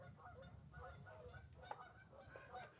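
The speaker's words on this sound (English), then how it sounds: "you hear those geese?" Geese honk outdoors in a repeated, overlapping chorus of nasal calls, faint and somewhat distant.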